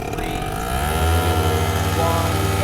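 A Buddy 50 scooter fitted with a Scooterworks sport exhaust accelerates hard in a short race, a buzzing small engine climbing in pitch and growing louder and nearer over a couple of seconds.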